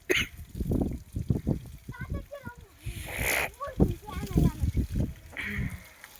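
Pressure water spraying and splashing against a cow during washing, heard in bursts of splatter and hiss while several people talk over it nearby.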